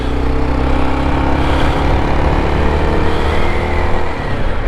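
A Honda XR650L single-cylinder dual-sport motorcycle rides along with its engine note loud and close, a steady droning rumble with slight throttle changes and wind buffeting.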